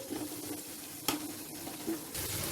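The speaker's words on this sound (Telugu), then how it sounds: "ఈ టమాటో ముక్కల్ని కొద్దిగా మగ్గనివ్వాలి" Chopped tomato pieces cook in a pan for chicken fry piece biryani, with a low steady sizzle and a couple of brief utensil knocks, close and without speech.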